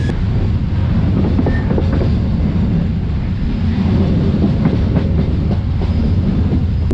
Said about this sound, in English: I'm in the train heading further to the coal mines of Sumatra